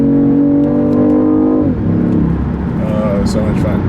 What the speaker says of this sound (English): I'll give you a little bit of an acceleration here as we enter the highway